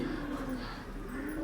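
Pigeons coo softly inside a loft housing young birds, a low, steady murmuring call held through the short stretch at a faint, close level.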